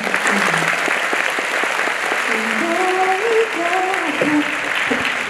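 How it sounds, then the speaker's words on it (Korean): Sustained audience applause at a fan concert mini-concert, a dense steady wash of many hands clapping close and loud, with a voice talking faintly underneath. "또 이제 회사에서 또 박수 한번"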